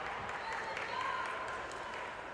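A packed crowd applauds steadily at a taekwondo poomsae team final in the Universiade, a continuous wash of distant clapping under a faint commentator's voice.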